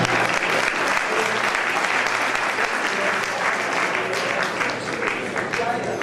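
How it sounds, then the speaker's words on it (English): An audience applauds an honoree at a sheriff's tribute event: steady, full applause from a crowd that carries on for several seconds, with voices talking over it. "Give this man an applause"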